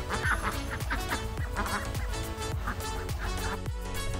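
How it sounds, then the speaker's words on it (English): A large flock of ducks crossing a road in Vietnam quacks and honks continuously, many overlapping calls forming a loud, dense clamour close by, with no voices. "thousands of ducks cross the road safely"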